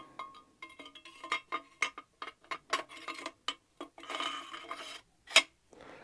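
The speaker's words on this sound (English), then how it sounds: "After that, put your handguard back on." Metal parts of a Kodiak WK180C Gen 2 rifle handguard clicking and clacking as it is fitted back on, a quick run of close, sharp ticks and knocks with brief pauses, no talking.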